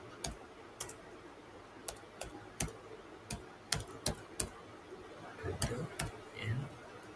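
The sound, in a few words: typing C++ code on a computer keyboard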